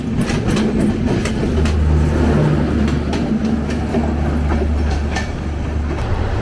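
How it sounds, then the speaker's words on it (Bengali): The Panchagarh Express passenger train passes a station close by with a loud, continuous rumble, a low droning tone and rapid clickety-clack of wheels over rail joints, steady throughout. "এটা হচ্ছে পঞ্চগড় এক্সপ্রেস"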